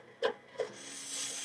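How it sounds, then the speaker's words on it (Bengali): A motorized slicing machine cutting lemons gives two short knocks, then its motor spins up into a steady whirring hum with a faint rasp of blades, close and fairly quiet, with no talk. "জাস্ট এখন যদি আমি মোটরটা চালু করি, সবগুলো কিন্তু স্লাইস হয়ে কিন্তু নিচে পড়বে।"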